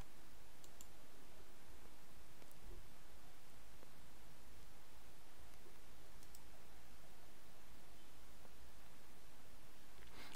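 A computer mouse clicks a few times, faint, sparse and irregular, buried under a steady hiss of background noise.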